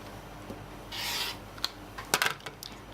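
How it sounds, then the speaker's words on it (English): A quilt's fabric seam allowance is trimmed, giving a short soft rasping cut followed by a few light clicks and taps, close and quiet with no talking. "I'm going to trim off my seam allowance here"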